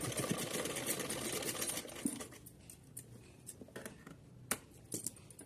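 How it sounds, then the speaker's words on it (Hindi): A sewing machine stitching a cotton outfit for a small deity figure, running in a fast, dense whir for about two seconds, then slowing into scattered clicks and short bursts as the fabric is backstitched, faint and close. "अभी एक बार बैक करके पूरा सिल देते हैं।"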